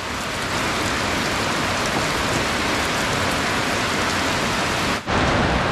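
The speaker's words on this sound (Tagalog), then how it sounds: "Dahil sa walang tigil na ulan." Heavy, unbroken rain pours steadily over a farm where mung beans, squash and okra were just planted, a dense loud wash of drops that dips briefly near the end before resuming.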